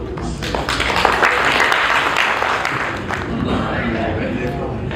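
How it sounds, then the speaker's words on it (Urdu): An audience at an international Urdu poetry gathering in Houston applauds steadily as a poet is invited to the stage, a broad continuous wash of clapping with some talk mixed in beneath it. "آپ تمام لوگوں کی بھرپور تالیاں دیں۔"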